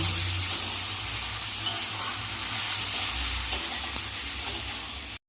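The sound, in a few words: sautéing a prawn masala in a pan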